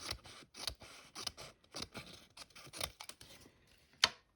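Scissors snip through paper in a quick run of crisp, close cuts, about a dozen short bursts in uneven rhythm, ending with one sharper, louder snap; quiet between cuts and no voices.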